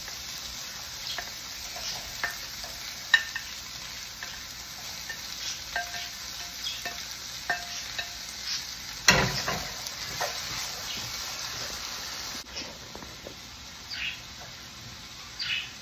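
Fish fries in oil with carrots and potatoes in a pan, a faint steady sizzle broken by scattered small clicks and a louder scrape partway through, with no one talking.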